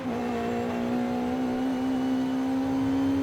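A car engine in the racing game Forza Horizon 5 drones at a steady, fairly constant pitch while cruising, creeping slightly higher over a few seconds, with a smooth humming tone and no other sounds.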